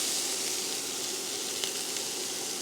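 A cup of onions sizzling in a pan of warm vegetable oil, a dense, steady frying hiss heard close and alone, with a couple of faint ticks from the pan.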